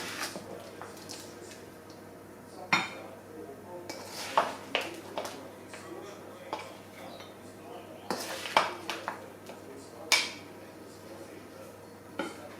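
Food being spooned into a dish in a home kitchen, soft scraping with sharp intermittent clinks of a spoon against the dish, quiet and close, scattered over several seconds.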